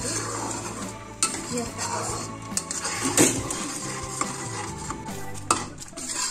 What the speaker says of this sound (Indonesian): Pasti meletup-letup seperti ini, selalu diaduk